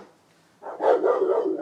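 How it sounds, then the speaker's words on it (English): A dog named Benny barks indoors during a live stream, a burst of several quick, loud barks running together after a quiet start. "That's my dog."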